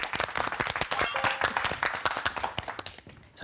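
Applause from a studio audience at a Korean talk show on diet and obesity, a dense run of claps near and loud for several seconds, with a few bright clinks over it and no talk.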